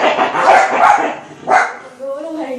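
Several household dogs bark in a few sharp, loud bursts close by, with people talking over and between the barks.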